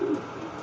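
Racing pigeons cooing in their loft, a single soft throaty coo close by at the start, then a quiet airy background.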